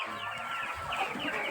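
Chickens clucking close by in a village, a brief cluster of soft bird calls over faint background noise.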